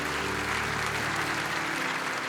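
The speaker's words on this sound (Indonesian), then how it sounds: "Kasih tepuk tangan dulu buat Tuhan." A church congregation at a night of worship applauds, dense and continuous clapping from a large crowd filling the hall, with no voices over it.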